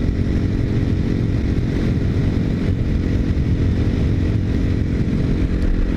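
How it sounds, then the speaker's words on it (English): KTM motorcycle engine held at a steady, loud, buzzing roar during a wheelie, continuous and close with wind noise and no pauses. "Man, I have not wheelied this bike in a long time."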